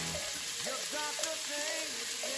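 Onions, bay leaf and olives frying gently in olive oil in a pan, a steady close sizzle and crackle with a few faint stirring scrapes over it.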